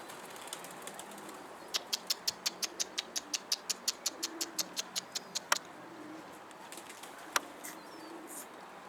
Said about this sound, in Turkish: Kuşlar parladı ya.